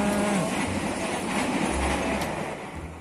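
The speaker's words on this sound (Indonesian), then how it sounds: "Benar-benar di sebelah rel persis, jadi suaranya keras sekali dan getarannya sampai terasa." Train passing right beside the railway tracks at a hidden hangout spot in a city centre, a loud, close, continuous rumble with wheel clatter and squeal that echoes and fades slightly near the end.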